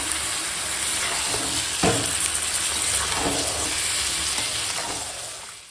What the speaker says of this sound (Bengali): এখন মাংসটা উপর নিচ করে সুন্দর করে কষাবো